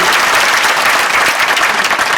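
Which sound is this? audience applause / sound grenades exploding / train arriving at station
audience applause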